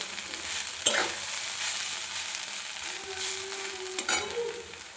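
Cauliflower kachori filling with a small potato mixed in is stirred in a hot pan: a steady sizzling hiss throughout, broken by two sharp spatula scrapes, close and fairly loud, with no talking.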